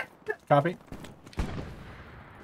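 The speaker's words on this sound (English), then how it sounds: "that's enemy tank fire" Enemy tank cannon fire in the video game Hell Let Loose: a single heavy blast with a rumbling tail, heard once near the middle, with gunfire cracks and a short spoken word around it.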